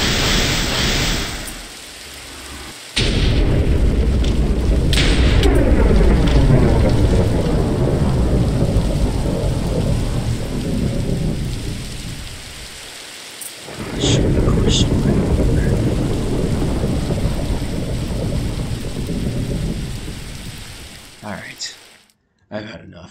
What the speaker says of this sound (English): Beware to the powers of the storm.